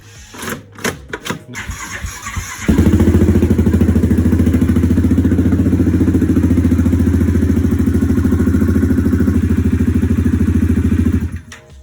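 A 2016 Yamaha Grizzly 700 four-wheel-drive ATV with a brake-pedal gear-change issue starts after a few clanks and then idles loud and steady close by, running evenly for about nine seconds before cutting off.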